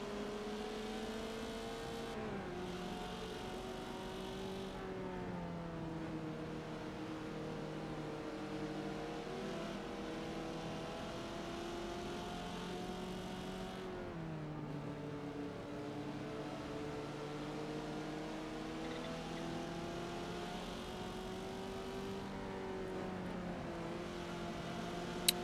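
Race cars in the Forza racing game at Lime Rock, B-Class, engines droning and shifting pitch steadily throughout as cars accelerate and jostle for position, with continuous loud engine tone and no talk.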